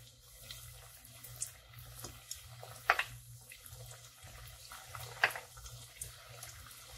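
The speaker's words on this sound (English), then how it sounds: "Our oil is ready because we can see bubbles coming out of it. So we can put our spring rolls inside." Red bean spring rolls fry in hot oil with a steady, close sizzle and hiss, broken by two sharp crackling pops partway through.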